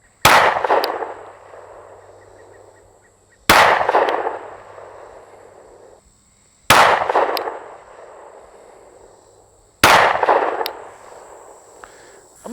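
Four loud pistol shots from a handgun fitted with a red dot sight, evenly spaced about three seconds apart outdoors, each a sharp crack followed by a long ringing decay.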